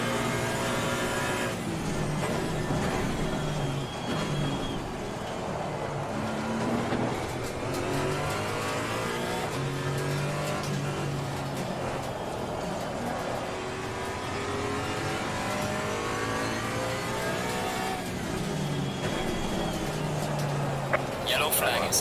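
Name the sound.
GT3 race car engine in Assetto Corsa Competizione video game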